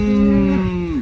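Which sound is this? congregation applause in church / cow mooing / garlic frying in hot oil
cow mooing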